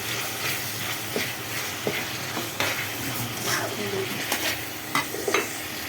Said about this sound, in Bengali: তো এখানে হচ্ছে আদা রসুনটাকে আমরা একটু তেলের মধ্যে ভালো করে ভেজে নেব।